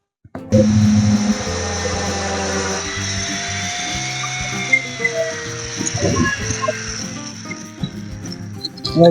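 A soft, lightweight plastic ball is cut open with a loud, continuous motorized whine that wavers in pitch for about eight seconds. Rough grinding rises toward the end.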